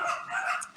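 Several dogs bark and yip excitedly behind a home sim-racing setup, a steady run of fairly loud, overlapping barks with no gaps.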